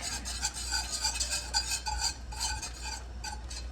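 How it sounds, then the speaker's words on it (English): Cream sauce being stirred continuously into a roux in a pan for meatball gravy, a steady run of soft scraping and clinking strokes at moderate level with a low hum underneath and no voices. "You want to continuously stir it."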